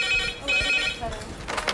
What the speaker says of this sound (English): the red phone goes